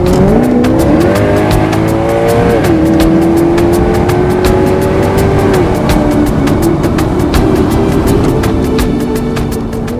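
A powerful Maserati V8 engine in a GranCabrio Sport roars loudly and close, its pitch climbing through revs, dipping at a shift, then holding a sustained high growl.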